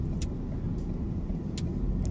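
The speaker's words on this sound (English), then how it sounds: "I've got to wait for this traffic to get out my way, or just to stop." Road traffic idles and rolls past on a busy street in St Peter Port, Guernsey, a steady low rumble of car engines heard from onboard a waiting vehicle, with faint light clicks scattered over the top.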